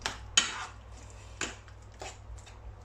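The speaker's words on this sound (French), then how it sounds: "Et donc là, on mélange." A spoon stirs an aubergine zaalouk mixture in a pan, with a few sharp scraping clinks against the pan spaced unevenly amid quiet background hum.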